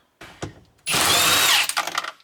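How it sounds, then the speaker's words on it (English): An impact wrench spins off the 22mm steering wheel nut of a Genesis coupe in one loud, close burst of about a second, with a couple of faint knocks before it and rattling clicks after. "Look how easy an impact makes that."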